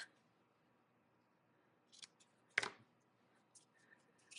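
Scissors snip once through ribbon while trimming a bow on a handmade Stampin' Up! card: a single sharp, close cut in a quiet room, with a few faint paper rustles around it.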